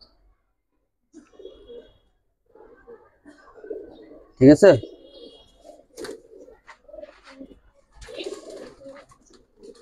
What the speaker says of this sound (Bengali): ভাই র কবুতর একবারে জাবরা র পাঙ্কি কবুতর।